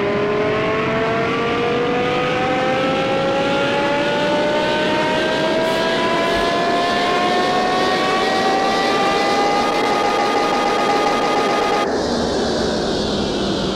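A Lamborghini V10 engine running in the game Car Mechanic Simulator 2023 gives a steady, loud tonal drone whose pitch climbs slowly as revs build, then drops sharply near the end, with no talking.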